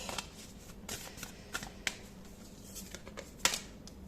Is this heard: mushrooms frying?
no